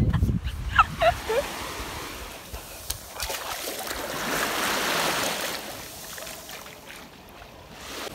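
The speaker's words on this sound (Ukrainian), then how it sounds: "Ми прийшли зараз на пляж і просто тут такі хвилі" Sea waves wash onto a beach in Bodrum, Turkey, a soft roar that rises and falls in the background, strongest midway, with a few brief bumps and knocks near the start.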